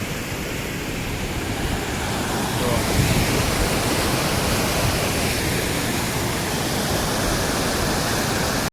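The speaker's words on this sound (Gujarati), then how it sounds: "જોરદાર વરસાદ ચાલી રહ્યો છે" Heavy rain falls in a village, a dense, loud, continuous roar of downpour that swells slightly partway through and holds steady without a break.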